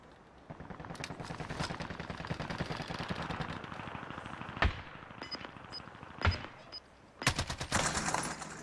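Gunfire in the video game Warzone: a long, loud burst of rapid automatic fire followed by several sharp single shots and a final short volley, with no talking.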